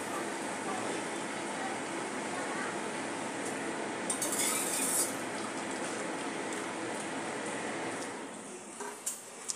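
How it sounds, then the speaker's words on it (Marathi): Boiled whole masoor lentils tipped into roasted masala in a cooking pan give a steady, close sizzle with scraping and clinking of utensils throughout, with a brief brighter hiss midway. "आता आपण यामध्ये आपण उकडलेली मसूर घालून घेऊया"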